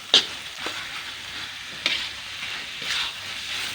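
Chicken cooking in a pan until its liquid cooks off, for shredded chicken in red spice paste, with a steady close sizzle and a few scraping stirs of a utensil.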